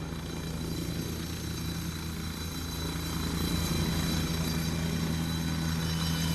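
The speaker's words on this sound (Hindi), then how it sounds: "ये उड़ान भरता हुआ मुख्यमंत्री भजनलाल शर्मा का ये हेलीकॉप्टर" Chief minister's helicopter taking off for an aerial survey of rain-affected areas in Karauli, Rajasthan: a steady, loud rotor and engine roar that swells slightly midway and holds throughout, with no talking.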